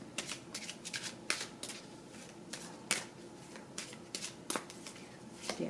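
Tarot cards shuffled by hand, a soft, quiet run of riffling flicks and papery slaps in irregular bursts, close up with no talking.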